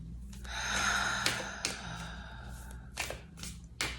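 Several audible breaths pushed out in a quiet room during a group breathing exercise, each a soft airy rush followed by short sharp exhales and faint thumps near the end.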